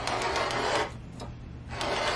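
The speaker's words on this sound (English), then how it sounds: "I'm lining up the edge of my fabric with one of those lines, and I will cut this so that it's nice and square" Cutter slicing fabric along a metal ruler on a cutting mat, two steady scraping passes separated by a short pause, close and fairly loud.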